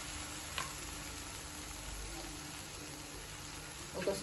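Ginger garlic paste frying in a pan for Hyderabadi boti fry, a steady close sizzle with a couple of faint stirring clinks near the start and end.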